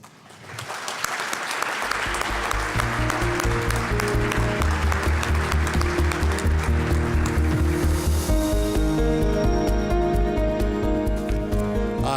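Audience applause at a university alumni awards ceremony, steady and full for about twelve seconds, with a low sustained musical tone running underneath.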